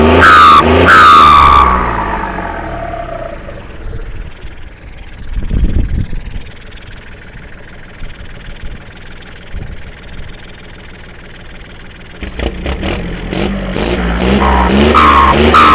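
A Kubota L4018 tractor engine runs steadily at idle, with a louder rev near the start and another burst of throttle toward the end.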